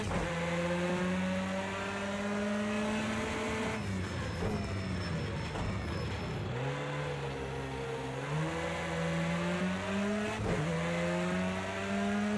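An Audi S1 EKS RX rallycross car in Project CARS 2 at Bathurst howls under hard throttle, its engine note climbing through gear changes with brief dips between shifts, loud and continuous.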